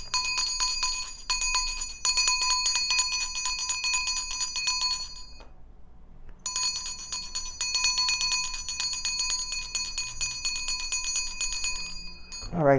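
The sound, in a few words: prayer bell ringing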